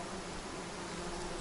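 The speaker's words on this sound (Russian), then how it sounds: "Вот смотрите, сразу сколько комарей." Swarm of mosquitoes buzzing in a taiga forest, a dense, continuous high whine close by with no gaps, faint but steady throughout.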